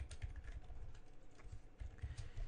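Continuous rapid typing on a computer keyboard while a web form is being written in a text editor, with steady soft clicks filling the short stretch and no speech.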